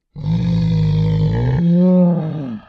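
A person growls deeply for about two seconds, imitating a bear, loud and close, alone with no other sound.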